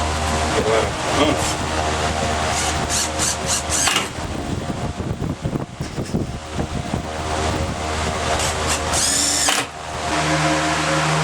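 Power drill drives screws into a new boat deck on a Sea Ray, bursts of whirring motor close by with short stops between runs, under outdoor wind noise and occasional talk.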